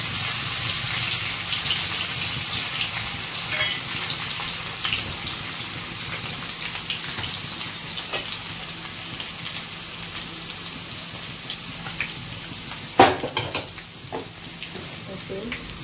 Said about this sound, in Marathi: हेच फोडणीला द्यायचं आता आपण।